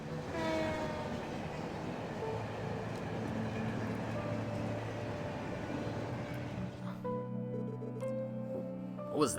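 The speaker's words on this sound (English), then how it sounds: "Maybe the last train for the Republic region." A train passes at night, its wheels rumbling and clattering loudly across the tracks with tonal screeching, then falling away quickly to a quieter hum.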